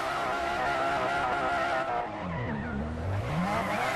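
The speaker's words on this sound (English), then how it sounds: "he's going to do reverse donuts in the 4-wheel drive Mitsubishi Lancer Evo Cup car." A four-wheel-drive Mitsubishi Lancer Evo Cup car in Gran Turismo 6 spins reverse donuts, tires squealing loudly over a revving engine that dips and climbs in pitch as it slides.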